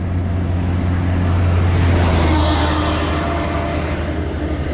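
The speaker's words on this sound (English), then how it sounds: "Dump truck." A dump truck roars past on a rural road near Rangeley, Maine, its heavy engine and tire noise swelling to a loud peak at mid-clip and then fading, with no talk over it.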